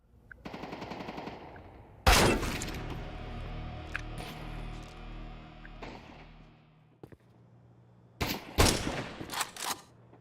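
Automatic gunfire from the video game Counter-Strike 2 rattles out in rapid bursts, with a sharp loud volley, trailing echoes and thuds, then another close burst of shots near the end.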